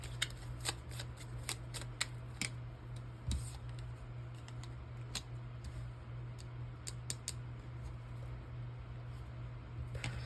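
Tarot cards are shuffled close up in continuous fast riffles and soft crisp flicks, fairly quiet over a steady low hum, with no talking.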